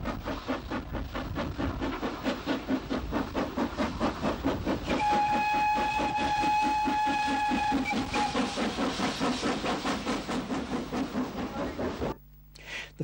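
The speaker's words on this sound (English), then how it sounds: "the first steam locomotive to use a new station was Great Northern V-Class Compound 440, No. 85 Merlin" Great Northern V-Class Compound 4-4-0 steam locomotive No. 85 Merlin works hard near a railway station, with rhythmic exhaust chuffs throughout and a long steam whistle blast in the middle before the sound cuts off abruptly.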